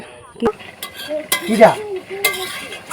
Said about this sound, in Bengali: কিছু সময় নিয়ে মাংসটাকে নাড়াচাড়া করছি, কেননা নিচে লেগে যাবে বলে।